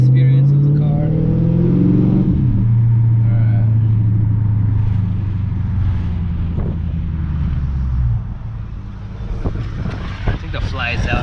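A Dodge Charger SRT-8 engine hums steadily in the cabin while driving on a cold day, its low drone shifting pitch as it changes speed, with wind rumble and a few faint knocks.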